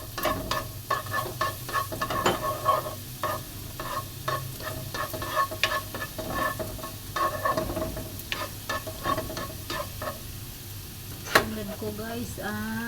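Chopped garlic sizzling in hot oil in a pan while being stirred for vegetable lumpia, a soft steady crackle with repeated scrapes of a utensil, close up and without talk.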